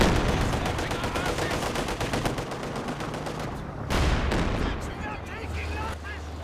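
Machine gun fire in Company of Heroes 2 rattles in rapid, steady bursts under a dense battle din. A deeper impact lands partway through, and voices speak faintly over the fighting.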